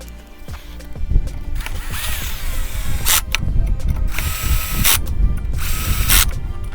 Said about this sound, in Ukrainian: Так, затягуємо тут гвинти.